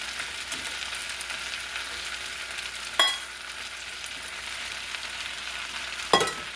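Onions and peppers frying with potatoes in a pan make a steady close sizzle, with two sharp louder bursts of crackle where more goes in. No one speaks.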